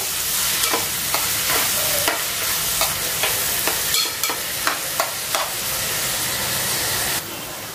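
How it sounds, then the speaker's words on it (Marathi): Onions with curry leaves sautéing in a pan for a dry village-style chicken masala, a loud steady sizzle with repeated scraping stirs throughout. "आता कांदा आपल्याला व्यवस्थित गुलाबी रंगावरती छान मऊ होऊन द्यायचा आहे"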